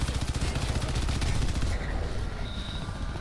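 Rapid automatic gunfire in Crysis 3 multiplayer on PC, dense and loud for the first half, then thinning into a quieter stretch of scattered in-game sounds.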